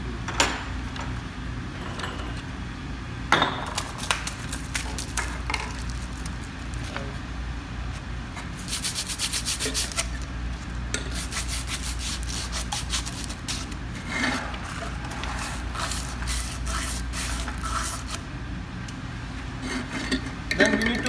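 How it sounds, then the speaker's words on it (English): Sandpaper rubs against the surface of a UPVC glue-joint pipe during a pipe-joining demonstration, making rough, scratchy rasping strokes in uneven bursts, some louder and longer, close by with faint background noise. "initially we are just cleaning the pipe surface by the sandpaper"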